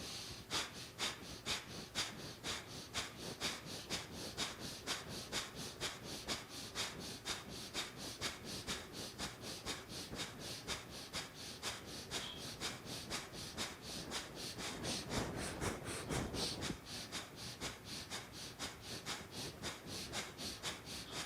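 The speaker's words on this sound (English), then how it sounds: "The breath of fire is for clearing and getting rid of any old energy." Rapid, rhythmic forceful breaths through the nose, a steady pumping pulse of short sharp exhalations continuing throughout, with a brief louder rushing stretch near the end.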